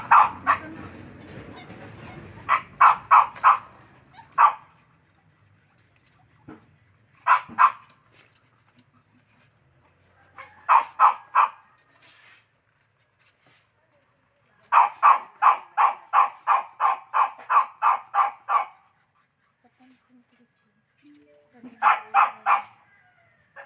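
Several dogs bark in repeated bursts of sharp yips and barks, some in quick runs, with pauses between volleys and faint talk underneath.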